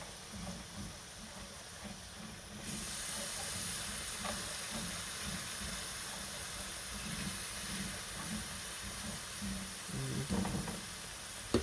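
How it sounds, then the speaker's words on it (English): Garlic fries in a skillet over medium heat, producing a continuous close-up hiss and sizzle with faint soft knocks near the end. "take our garlic and we're gonna fry it up a little bit"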